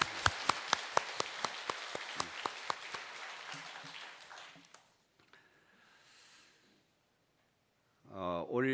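A church audience claps to welcome a visiting missionary, sharp, fast, fairly close hand claps that thin out and fade after a few seconds, followed by near silence and then a voice beginning to speak.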